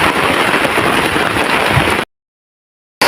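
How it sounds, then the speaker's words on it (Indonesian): Heavy rain pours steadily onto a camping tent at a campground, a dense continuous roar for about two seconds before cutting to silence and returning briefly at the end. "Suasananya hujan deras hari ini"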